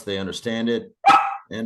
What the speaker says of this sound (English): sorry, excuse the dog.